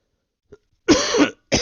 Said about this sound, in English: Just me coughing.